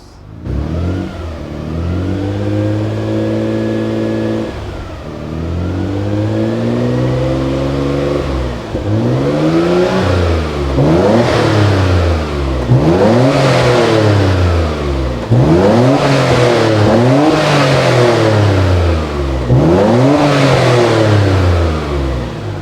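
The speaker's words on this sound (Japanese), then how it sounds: "マフラーサウンドチェックいきますか" A Nissan Skyline GT-R R33 (BCNR33) Nismo exhaust revs repeatedly, climbing and falling in pitch with several sharp throttle blips after a steady idle, loud and close.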